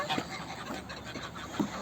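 Faint duck quacks come at scattered moments over a busy outdoor background of rustling and distant noise.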